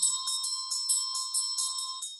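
A small handheld ritual bell rung in a steady, rapid shake during Tibetan-style instruction, bright sustained ringing tones pulsing about four times a second, close and clear with no talk.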